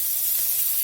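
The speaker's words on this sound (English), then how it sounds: "I'm going to put a little vegetable oil in this hot pot. And we're going to get this seared." Steak searing in hot vegetable oil in a pot, giving a steady, loud, close hiss and sizzle throughout with no talk.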